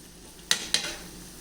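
Banana fritters (pazham pori) in oil over a low flame, with two sharp clatters of a utensil in the pan and a soft sizzle trailing after each, close and otherwise quiet.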